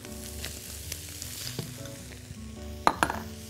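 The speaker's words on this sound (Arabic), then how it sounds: "ننزل بقى بالبصل" Onions frying in a pan, a dense continuous sizzle close up, with a couple of sharp clinks from a utensil against the pan near the end, no voices.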